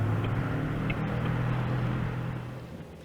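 A car engine drones steadily while being driven in fourth gear in a radio play, giving a low, constant rumble with road noise up close that eases slightly toward the end.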